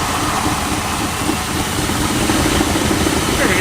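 An old big block Chrysler engine that had sat for 35 years runs steadily up close, a loud continuous rumble with a rough idle, and voices speak over it.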